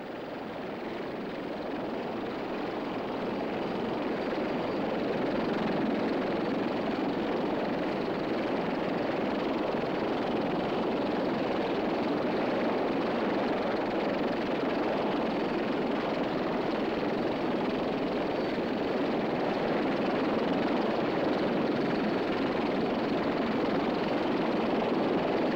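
McDonnell XV-1 convertiplane from 1956 in flight, a steady loud rotor-and-engine roar that holds evenly throughout with no breaks and no voices.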